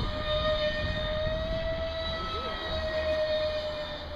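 An RC Su-35 model jet landing in grass on a windy day, its steady high turbine-like whine running loud and constant throughout, with a faint pitch wobble near the middle over rough wind noise.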